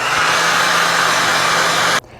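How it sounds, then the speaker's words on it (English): A hair dryer blows with a steady, loud broadband whoosh and a low motor hum, then cuts off abruptly near the end. "I will continue to dry it with the hair dryer."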